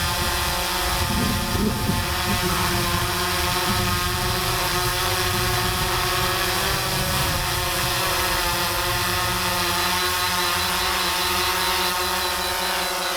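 An Autel EVO drone lifts off and hovers, its propellers producing a steady, close, high-pitched whine with a constant buzzing hum and no break over the whole stretch.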